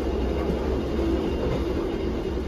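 A steady, close rumble of a train rolling along the tracks on the Solo–Jogja line, continuous and fairly loud with no talking.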